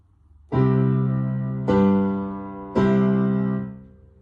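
A piano plays a perfect cadence: three full chords in succession, each struck firmly and left to ring, the last resolving strongly; close and clear with no voices.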